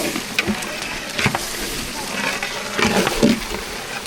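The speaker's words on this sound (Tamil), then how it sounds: "மசாலா கூட சிக்கன் நல்லா கலந்துக்கலாம்" Chicken being stirred with masala in a pan at a wedding-style non-veg feast cooking session, giving a steady sizzle with scraping and stirring strokes throughout at close range.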